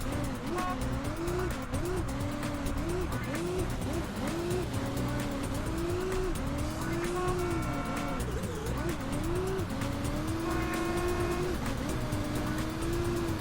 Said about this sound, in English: the engine sounds in this game are really bad